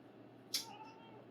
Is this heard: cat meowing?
yes